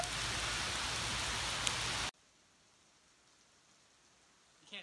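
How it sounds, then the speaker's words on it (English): Steady, dense rain falls outside and patters on surfaces with a loud hiss for about two seconds, then cuts off abruptly to a quiet indoor background. "But out there, it's still raining."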